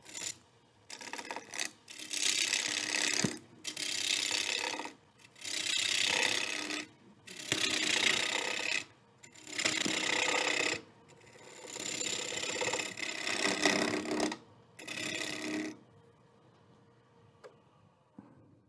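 Turning tool riding the bevel as it cuts a wooden bowl on a lathe, roughing a log into a bowl: repeated bursts of loud rasping scrape, each a second or two long, separated by short pauses, close and alone.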